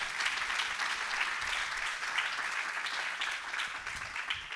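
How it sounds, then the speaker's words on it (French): An audience at a talk on personal branding breaks into steady, fairly loud applause that fills the whole stretch without pause, with no voice over it. "On peut l'applaudir."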